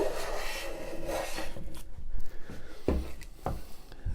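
Hand plane shaving pallet wood across the grain, raspy scraping strokes close by, uneven in rhythm, with a few sharper knocks between passes.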